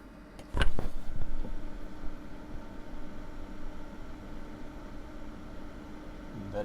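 An Amiga 3000 computer's power supply fan whirs as a steady, fairly loud broadband hiss, starting after a sharp click near the beginning and continuing unbroken to the end.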